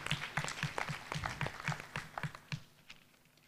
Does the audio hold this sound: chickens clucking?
no